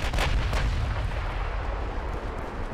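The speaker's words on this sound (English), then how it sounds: "There's another torpedo just hit me" Torpedo hits explode against a warship in the naval combat game Ultimate Admiral: Dreadnoughts, a dense, continuous rumble of heavy booms with a couple of sharper blasts early on, loud and with no voices over it.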